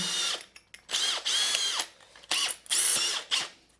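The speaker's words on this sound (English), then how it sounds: "now we're just going to increase that hole I've drilled in the floor" Power drill widening an already drilled hole in a garden room floor, running in several short bursts of roughly half a second to a second each, close and fairly loud, with brief pauses between them.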